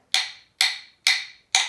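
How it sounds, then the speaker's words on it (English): Four crisp wooden clicks, evenly spaced about half a second apart, bright and close with short ringing decays. "this is the sound of our rhythm sticks when we click them together"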